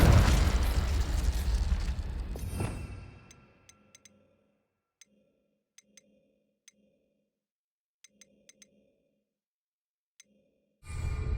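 A Confringo spell explosion from the wizarding world bursts loud and close, then a long rumbling decay fades over about three seconds into sparse, faint ticking crackles, before another loud burst rises at the end.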